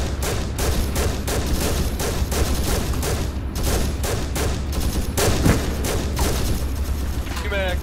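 Rapid bursts of gunfire in a military video game, sharp repeated shots cracking in quick clusters over a constant low rumble, loud and close for several seconds, with voices talking underneath.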